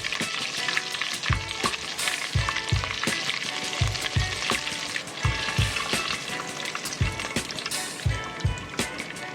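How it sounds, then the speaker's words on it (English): Potato mozzarella cheese balls fry steadily in hot vegetable oil, a continuous close sizzle punctuated by regular soft bumps and clinks as they are turned. "now I'm going to start frying up my potato cheese balls"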